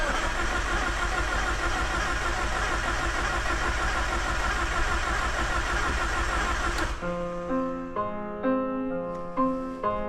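A Mitsubishi Evo wagon's engine runs loud and steady, then cuts off abruptly about two-thirds of the way through. Sparse tonal sounds follow.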